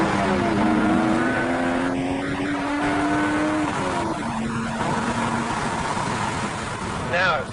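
A sports car engine revs up and drops back through rising and falling pitches, loud and close, with road noise throughout.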